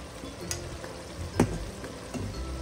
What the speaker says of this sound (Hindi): इन सारी चीज़ों को भी मैं भूनती हूँ